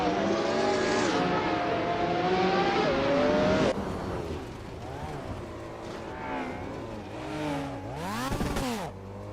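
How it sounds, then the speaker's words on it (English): AI race cars in a racing video game scream past with high revving engines, Doppler-shifting pitches rising and falling as several cars zip by in quick succession. "Ready to see some AI cars zip around?"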